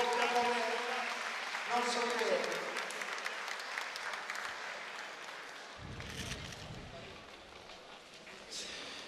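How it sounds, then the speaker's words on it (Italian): Audience applause at a live event, a broad wash of clapping heard at moderate distance that tapers off gradually, with voices over it near the start. "Eccolo qui l'applauso del pubblico"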